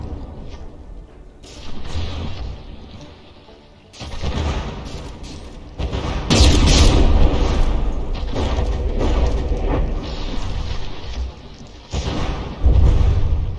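Shells detonating in the naval battle video game From the Depths: heavy booms and rumbling blasts come in a rapid, layered barrage, loud and close, with dense explosive bursts that overlap and swell across the stretch, trailing off into lower rumble between hits.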